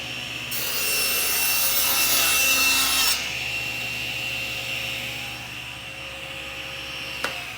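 A saw rips a roughly 1.5-inch strip off the side of a wooden board, a loud broadband cutting burst for about three seconds, then a steady lower machine hum continuing after the cut with a brief click near the end.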